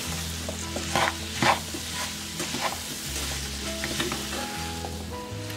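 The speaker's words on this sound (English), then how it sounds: "So I'm going to give this a really good stir." Apples coated with sugar, cloves and a pinch of salt are stirred in a hot pan, a steady close sizzle with scraping strokes and a few louder bursts early on, no talking.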